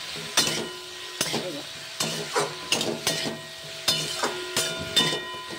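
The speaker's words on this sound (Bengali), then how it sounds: "এক হাতে আমি ক্যামেরা আর এক হাতে আমি নাড়ছি তরকারি" A vegetable curry of eggplant, beans and potato being stirred in a pan, with a series of sharp spoon scrapes and knocks against the metal over a soft sizzle, close and without talk.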